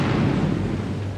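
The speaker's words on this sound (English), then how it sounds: "At 5 o'clock, the explosives were detonated." A large explosives detonation, heard as a dense, sustained roaring rumble with broadband crackle that stays loud throughout a short stretch.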